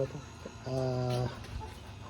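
Red Kelso Cross Tornado Hatch chickens give a brief, fairly loud sustained cluck or call near the mic, with faint farmyard background around it.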